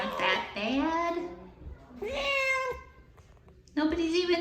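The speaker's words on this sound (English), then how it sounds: "Other than doing a lot of loud meowing, Midnight did fine at the vet." A cat at the vet clinic gives loud, drawn-out meows in three separate calls, close by with short pauses between them.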